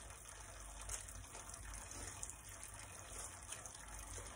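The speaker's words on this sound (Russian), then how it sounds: "Даже поднамочу его, знаете, под это, под краном." Water runs steadily from a kitchen tap, a faint continuous gushing stream with no talk over it.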